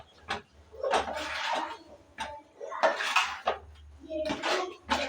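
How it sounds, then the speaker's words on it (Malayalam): A spoon scrapes and clatters against a pan as chicken is stirred into masala for a chicken curry, in irregular bursts of metallic scraping and knocks. "ഇനി നല്ലതുപോലെ ഇതൊന്ന് ഇളക്കി കൊടുക്കാം കേട്ടോ"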